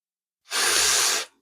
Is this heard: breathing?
yes